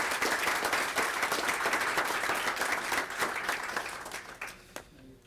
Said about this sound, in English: let's give a round of applause to all the winners